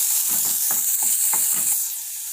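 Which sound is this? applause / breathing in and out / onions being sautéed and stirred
onions being sautéed and stirred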